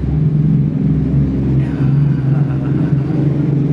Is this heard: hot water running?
no